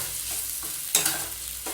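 Green chillies and grated coconut sauté for a green chilli poriyal, a steady close sizzle with a spoon stirring and scraping through the pan, including one sharper clatter near the middle.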